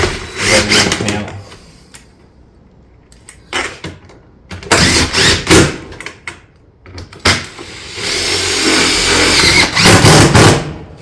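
A power driver runs screws through the top of a metal panel, several loud bursts of whirring and grinding separated by brief pauses, with a longer sustained run near the end.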